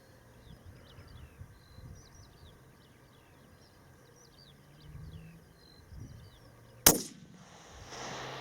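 A single sharp long-range rifle shot cracks out loud and sudden after a long quiet outdoor stretch with faint birds and insects, followed by a brief echoing rumble.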